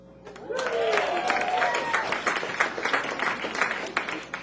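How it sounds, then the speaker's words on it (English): A comedy club audience at a stand-up show in Atlanta bursts into clapping and laughter after a brief spoken line, swelling quickly into a sustained, moderately loud round of applause. "Don't applaud."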